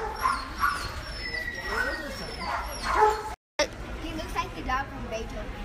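Several dogs, including fluffy long-haired ones, bark and whimper close by, with yips and high whines broken by short bursts, while people talk over them.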